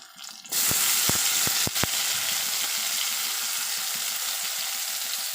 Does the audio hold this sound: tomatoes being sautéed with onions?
yes